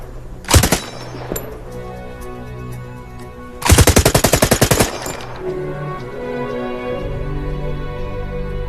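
AK-47 rifle test-fired on a range in a film scene: a single loud shot, then after a pause a sharp rapid automatic burst of about a dozen rounds, with a low rumbling score underneath.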